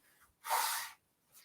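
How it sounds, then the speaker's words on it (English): A single loud, breathy nasal blast lasting about half a second, with a faint short puff following after a pause. "Blow my nose."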